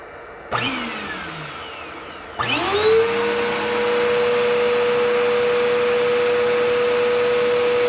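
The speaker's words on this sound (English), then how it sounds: "we're going to plug in a vacuum" A vacuum cleaner run from a Dabbsson DBS2300 portable power station switches on twice, its motor whining up in pitch each time before settling into a loud, steady high drone close by.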